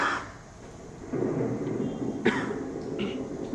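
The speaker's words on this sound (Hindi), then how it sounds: "उसी तरह आसमान गरज रहा।" Low thunder rumbles through the sky, a steady broad roar with a brief crackling burst midway, heavy and continuous without voices.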